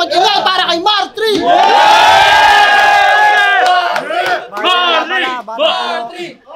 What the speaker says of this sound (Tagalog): mag-ingay para kay Martri